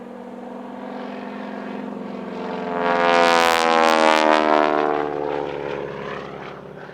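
A Boeing Stearman Model 75 biplane, an open-cockpit 1930s trainer, flies past at an airshow, its radial engine droning and swelling loud as it passes close, then fading away.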